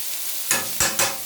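Butter dropped into a hot pan of beans, giving three short bursts of crackling sizzle over a faint steady background hiss, each rising quickly and then settling.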